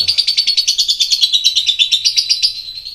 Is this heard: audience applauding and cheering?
no